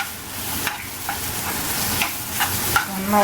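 Chili powder and turmeric sautéing in a pan for mango pachadi, a soft steady sizzle broken by a few scraping stirs of the spoon.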